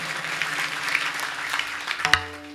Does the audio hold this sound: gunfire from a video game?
no